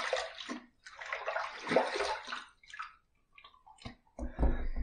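A shaving razor with a tile head and bolt handle is rinsed under running water, with bursts of splashing and trickling broken by short pauses, then a few light knocks and a final gush.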